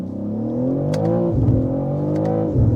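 A 650 hp BMW M3 Touring tuned by Manhart as the MH3 650 accelerates at full throttle, its loud engine note climbing steadily through the revs with two sharp drops for gear shifts, heard from inside the car.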